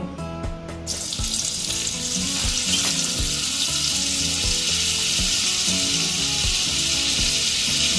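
Oil and butter sizzling in a pan as the base for paneer butter masala, a bright steady frying hiss close up after a brief quiet start, with faint clinks of utensils.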